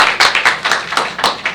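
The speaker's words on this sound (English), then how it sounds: "Let's give her a warm round of applause." Seminar audience claps to welcome a presenter, a lively burst of hand claps with distinct sharp strikes about every fifth of a second, close and fairly loud, with no talk over it.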